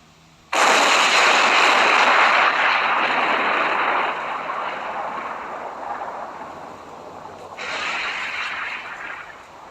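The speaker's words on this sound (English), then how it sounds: "The explosion was actually caught on tape by Dr. Hackinson, who was on the hospital ship Solace." Archival 1941 tape recorded aboard the hospital ship Solace during the Pearl Harbor attack catches a battleship explosion as a sudden loud, sustained roaring blast. It rumbles on for several seconds, fades slightly, then swells again in a second surge.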